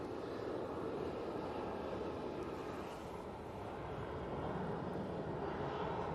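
A propeller aircraft about to touch down at Manchester Airport gives a steady, broad rumbling roar that holds at an even level, heard from a distance with no voices.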